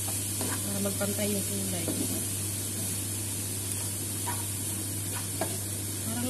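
Cauliflower rice with garlic stir-fries quietly in a pan, a soft steady sizzle broken by scraping stirs, while a voice talks over it.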